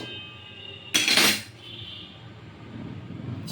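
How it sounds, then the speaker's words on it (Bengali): A metal kadai, or wok, is set down on a kitchen stove with one sharp clattering clank, ringing briefly before fading into quiet background room noise. "কড়াই বসিয়ে দিলাম"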